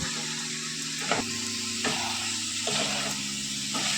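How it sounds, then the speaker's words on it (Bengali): Fried cauliflower florets go into a pan where raisins are frying, with a steady sizzle broken by several scraping stirs at regular intervals, close and clear, with no talking. "ভেজে নেওয়ার পরে এবার ভেজে রাখা ফুলকপিগুলোকে দিয়ে দেবো।"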